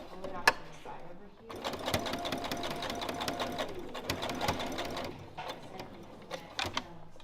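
A sewing machine stitches fabric in a steady, rapid mechanical rattle for several seconds, then stops. Short clicks and handling noises come before and after the run, and people talk over it during a beginners' sewing class.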